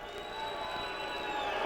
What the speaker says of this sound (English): the crowd is certainly revved up here now